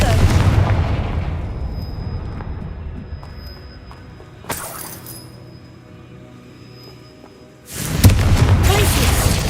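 A fiery Confringo spell explodes in Hogwarts Legacy with deep, booming blasts. A heavy roar opens, a sharp crack lands mid-way and a second loud rumbling explosion bursts near the end, amid a game soundscape with a faint high tone.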